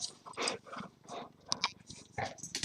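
A playful dog growls and grumbles in rapid bursts at close range, with low rumbling noises rising and falling between louder snarls.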